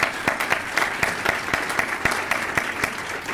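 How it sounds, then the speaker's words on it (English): Dense, steady applause from an audience at a Cleveland Food Bank event marking 40 years, with sharp claps filling the whole stretch at close range and no voices over it. "Let's round of applause."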